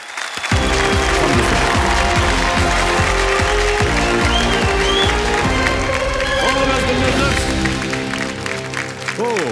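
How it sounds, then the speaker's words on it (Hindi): A studio audience at a television quiz show breaks into steady, loud applause with some cheering, sustained over music and fading slightly near the end. "तालियों के साथ इनका अभिनंदन"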